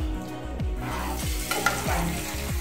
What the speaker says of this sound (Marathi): आणि आता याच्यात थोडंसं आम्ही मॅच करतोय